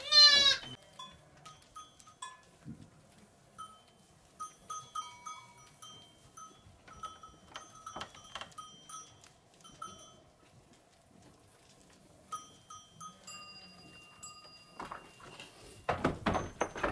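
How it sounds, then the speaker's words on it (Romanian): Goats bleat on a Romanian sheep and goat farm in Cluj, scattered calls near and far with a cowbell clinking, a loud bleat opening the scene and clattering noise near the end. "Pe aici vă mai prezentăm încă 81 de capre, pe lângă turmele de oi."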